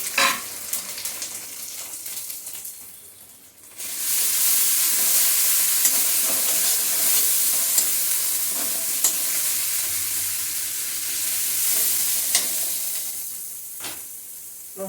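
Spice masala of ginger, ground coriander, cumin, Kashmiri chili and turmeric is being sautéed in a pan for a small-fish curry. Quieter stirring comes first, then a loud, steady sizzle and hiss takes over and holds to the end.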